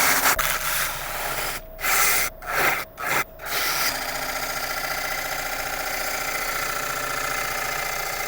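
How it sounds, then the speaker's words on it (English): Sandpaper rasps against soft, punky rotten wood spinning on a lathe, a loud, close, continuous scratchy rub broken by a few brief pauses, then a steadier sanding drone with no talk. "I'm sure we can sand it and get it looking nice."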